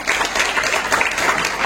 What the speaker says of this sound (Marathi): तर यासाठी जोरदार टाळ्या होऊन जावे.